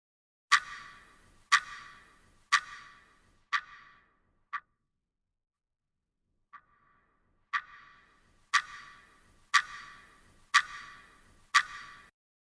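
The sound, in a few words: clock ambient sound in a Unity game demo with Wwise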